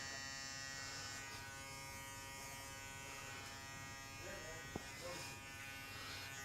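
Electric hair clippers buzzing steadily during a fade haircut in a barbershop, a faint constant hum running the whole time with a brief click near the end.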